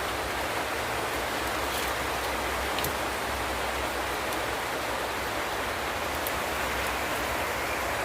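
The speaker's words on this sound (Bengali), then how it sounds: "দেখো বৃষ্টি চলে এসেছে, বৃষ্টি পড়ছে।" Rain falls steadily in an even, dense hiss, with a few sharper drips standing out now and then.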